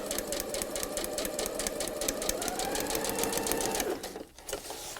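A sewing machine runs steadily as it stitches along the lines of foundation paper-pieced fabric for a heart pillow, a close, fast, even whirr that slows and stops near the end.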